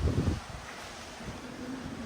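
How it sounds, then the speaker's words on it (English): Wind blowing across a cruise ship balcony on Odyssey of the Seas, a steady low rush with a few heavier buffets against the microphone, no talk. "Ooh, sounds a little windy."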